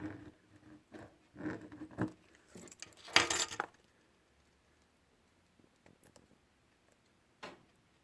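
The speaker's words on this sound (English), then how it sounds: "So just going to use some keys here." Metal keys jangle and scrape close up while being used to cut open an iPhone SE box: a cluster of clicks and rattles in the first few seconds, one sharp burst, then sparse faint taps.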